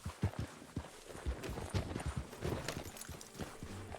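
A horse's hooves clip-clop in Red Dead Redemption 2 in a quick, rhythmic series of hoofbeats. The sound is fairly faint and close, over a quiet outdoor ambience.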